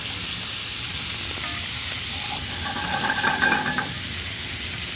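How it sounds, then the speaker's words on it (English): Shrimp frying in a pan just after bacon and shallot come out, a steady close hissing sizzle with a few brief metallic tong clinks partway through, loud and continuous with no voices. "So once the bacon and the shallot mixes out of the pan, we're going to add our shrimp."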